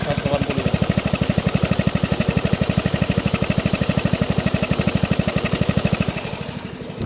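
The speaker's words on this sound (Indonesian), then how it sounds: "sekarang coba kita dengerin nih suara dari knalpot S180" A Vespa Sprint 180 scooter engine runs close by with a rapid, even exhaust putter, loud and steady, then settles lower near the end.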